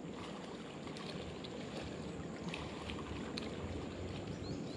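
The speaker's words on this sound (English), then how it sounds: "these boats is just murder" Steady broadband water wash and lapping from passing motorboat wake on a busy lake, continuous and fairly loud with faint splashes throughout and no voices.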